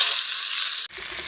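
Rohu fish coated with salt and turmeric frying in hot oil: a loud, bright, even sizzle that cuts off abruptly, leaving a faint quiet crackle.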